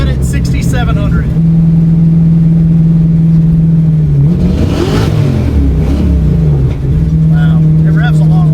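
A Small Block Ford fitted with cheap eBay cylinder heads, a 228/232 cam on 114 with 550 lift, and a 6,700 rpm limiter roars loudly at a steady high hold. It then sweeps up and back down through a rev before settling again, with voices faintly under it.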